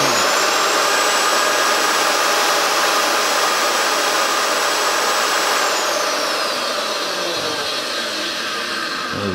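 A handheld router runs at full speed, a very loud close whining roar with a high steady tone that drops slightly partway through and eases toward the end, with no voices.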